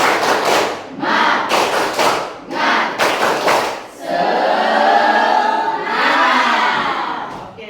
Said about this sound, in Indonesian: seperti biasa SBK kita adalah tepuk semangat